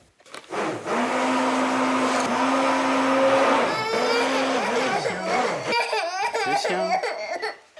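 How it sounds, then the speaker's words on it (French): A blender making purée whirs with a steady, loud motor hum for several seconds, then stops and a one-year-old baby babbles and fusses close by. "Maman qui te fait de la purée avec le mixeur."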